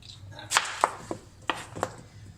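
Knife chopping vegetables into even pieces for cooking outdoors, a handful of sharp, separate thunks on a board at an irregular pace, close and fairly clear with no talk.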